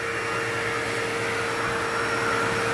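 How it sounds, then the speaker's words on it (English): A vacuum cleaner sucking up a ladybug invasion gives a steady, close, continuous motor whine and airflow roar with no break and no talking. "Can't hide from the vacuum cleaner"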